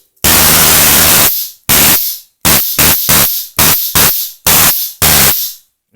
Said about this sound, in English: if someone pulled a stun gun out and I heard that sound